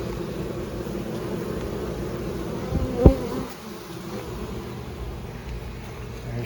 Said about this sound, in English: most of the bees have moved in